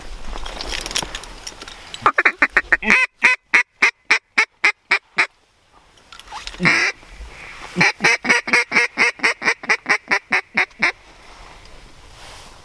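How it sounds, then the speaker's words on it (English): Ducks quack in two loud, rapid runs of repeated calls, close by on public hunting land, separated by a brief pause, with faint outdoor noise underneath. "there's some ducks right there"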